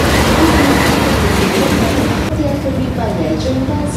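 Argo Parahyangan premium economy train cars rolling past at a station, a loud steady rumble and rattle close by, with a platform announcement voice over the noise.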